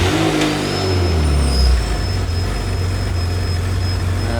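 A Ferrari F355 GTS project car idles roughly after starting, a loud close low rumble that sags and surges unevenly, with a faint high whine running on top.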